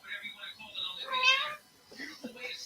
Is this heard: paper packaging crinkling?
no